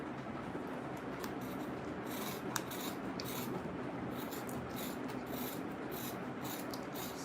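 Scissors snip steadily through Ankara fabric along a marked line, a continuous close rasping rub with small crisp clicks, fairly quiet and with no talking.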